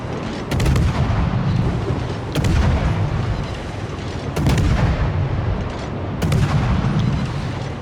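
Naval ship guns fire in World of Warships, including the cruiser Jutland: four heavy, booming salvos spaced roughly two seconds apart, each followed by a rumbling tail, with no talking.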